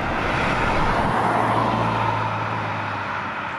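Turbocharged four-cylinder engine in a Hyundai Sonata N Line pulling hard under acceleration, a steady, fairly loud drone with a low rising tone through the middle, alone without talk.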